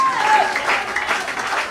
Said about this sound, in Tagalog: Lahat ng masaya pumalakpak.